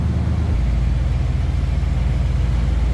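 A 1963 Ford Thunderbird 2-door hardtop engine settling to a low idle with the hood open after warming up, a steady deep rumble close by, with no talking.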